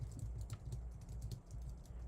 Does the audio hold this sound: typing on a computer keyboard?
yes